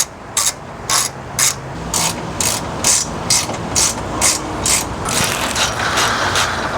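A hand ratchet turns bolts on the steering rack of a 2008 350Z HR, giving close, sharp clicking bursts in a regular rhythm of about a dozen strokes, then a quicker, denser run of clicks.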